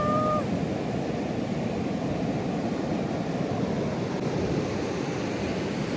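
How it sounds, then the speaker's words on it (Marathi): Big sea waves crashing on a shore, a continuous loud rumbling wash of surf with wind buffeting, no voices. "खूप मोठ्या लाटा येत आहेत."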